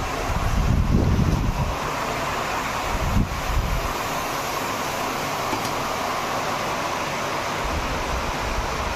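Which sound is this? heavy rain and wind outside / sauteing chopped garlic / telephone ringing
heavy rain and wind outside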